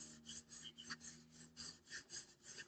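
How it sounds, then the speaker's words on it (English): Rhythmic, faint rasping strokes of a hand rubbing firmly over a folded paper panel to set the glue, repeated about ten times in a steady back-and-forth pattern, close and quiet. "Give it a really good rub, because I don't want to pull it away too quickly and then have the glue separate."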